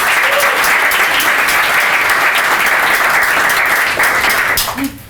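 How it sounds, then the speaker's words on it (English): A keynote audience at a music and events talk gives the event team a big round of applause. The clapping is loud, dense and sustained, with crowd noise beneath it, and eases off slightly at the very end. "I would like to get a big round of applause for the team that helped me out tonight"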